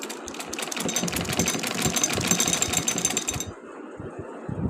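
Sewing machine stitching a kurta, a rapid rattling run of stitches close up for about three seconds, then a few slower separate clicks as the fabric is turned by hand.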